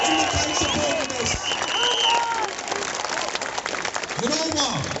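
A crowd at an outdoor rally claps and cheers steadily, with shouts and whistles rising over sustained applause while a voice carries over a loudspeaker amid the noise.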